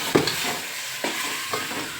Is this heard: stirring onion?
yes